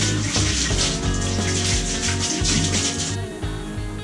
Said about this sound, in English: full, so I'll give it a wash out